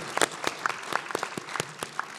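Sparse, scattered clapping from a small audience at a talk, individual hand claps distinct and irregular rather than a full ovation.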